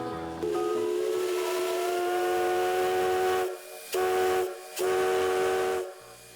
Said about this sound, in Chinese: 鸣笛催促，老火车等不及介绍下一站。